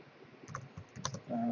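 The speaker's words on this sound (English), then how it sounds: "I'll just type here" Quick light clicks of typing on a computer keyboard, a few soft keystrokes in short bursts, faint and close, ending as a steady tone rises.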